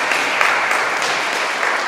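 A church congregation at a Korean Sunday service in Paris on the last day of 2017 breaks into steady, dense applause of thanks to God, filling the room evenly throughout without a break.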